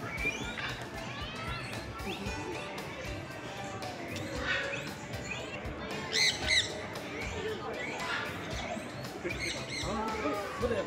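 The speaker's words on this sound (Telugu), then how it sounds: "కానీ చాలా గట్టిగా అరుస్తుంటాయి. వీటి సౌండే షాపింగ్ మాల్ అంతా వినబడుతుంది." Pet birds at a shopping mall pet show in Bangkok squawk loudly and often, sharp calls rising repeatedly over busy indoor crowd noise and chatter.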